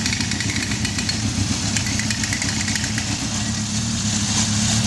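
A motorcycle engine idles with a steady, rumbling throb, close and continuous, with slight rises in revs and no voices.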